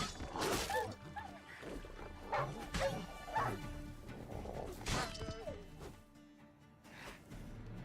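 A dog barks in a video game in several sharp bursts, mixed with thuds and crashing impacts.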